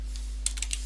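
A few quick keystrokes on a computer keyboard entering a Linux command, close and clicky, about five taps in under a second over a low steady hum.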